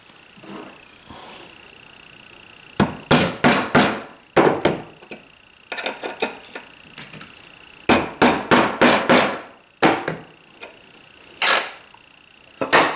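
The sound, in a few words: hammer tapping a transfer punch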